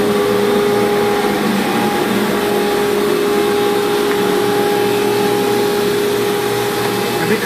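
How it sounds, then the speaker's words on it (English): A vacuum table for banner heat welding runs with a steady, loud mechanical whir and whine, an unbroken drone carrying a constant hum with no pauses. "turn on your vacuum table"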